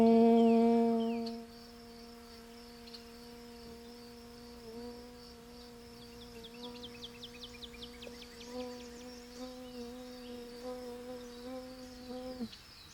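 A voice hums a steady, sustained buzz imitating a bee, a low drone with overtones after a brief louder start, quiet and continuous.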